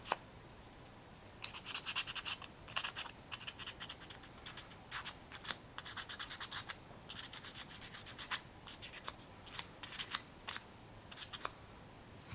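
A stubborn grease fingerprint is rubbed off a part of an HP TX2 laptop, producing brisk, scratchy back-and-forth strokes in irregular bursts, close up and without speech.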